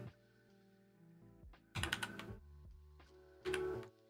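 Someone types on a computer keyboard in quick, faint clusters of clicks. Two denser bursts come partway through, over a quiet tonal background.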